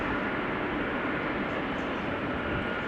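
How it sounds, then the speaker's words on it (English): Boeing 767 jet engines taxiing at Amsterdam Schiphol airport give a loud, dense, continuous broadband roar with a hiss on top, steady throughout and close, with no talk. "the engines of the 767 are overpowering everything else once they are turned towards us"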